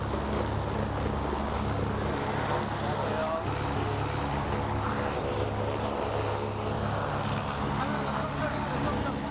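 Medical emergency doctor helicopter in flight, a loud steady rotor and engine drone with a throbbing low hum holding constant throughout, close and continuous, with talk faintly underneath.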